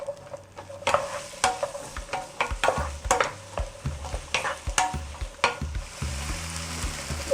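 Onion cooks in butter in a pan for shakshuka, with a close, steady sizzle broken by a regular run of sharp spatula knocks and scrapes against the pan, and no talking.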